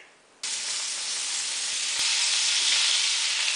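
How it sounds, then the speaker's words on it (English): Asparagus hitting a very hot pan on medium-high heat, an abrupt loud sizzle that bursts in and holds as a steady, close frying hiss. "put the pan back on medium-high heat, and toss in the asparagus"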